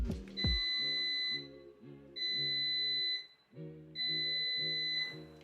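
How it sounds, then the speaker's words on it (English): A COSORI Air Fryer Pro LE 5-quart air fryer sounds three long electronic beeps at even intervals when preheating is done, each a steady high tone over a low humming buzz. "When preheating is done, your air fryer will beep 3 times."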